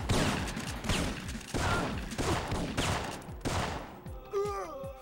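Gunfire in the video game Syphon Filter, in a mission set in an enemy stronghold, comes as repeated loud volleys about once per second with sharp, echoing shots, and a brief vocal sound at the end.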